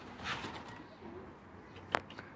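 A homing pigeon gives a brief, soft coo at a moderate distance, followed by a sharp isolated click against a quiet outdoor background.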